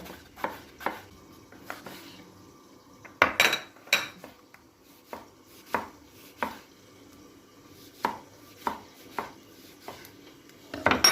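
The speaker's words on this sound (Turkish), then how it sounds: "Domateslerimizi yemekli küçük küçük parçalar halinde içini doğruyoruz" A knife chops tomatoes into small pieces on a board for karnıyarık, giving a steady series of sharp, close taps and knocks with short pauses between cuts and no talking.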